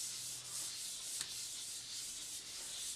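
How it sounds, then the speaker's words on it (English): Hand sanding of a carbon fiber exhaust from a '95 Ducati 900SS, done lightly in swirly motions: a steady, close, continuous rasping rub with no pauses. "It's just going to be exactly like the first round of sanding, just a lot lighter"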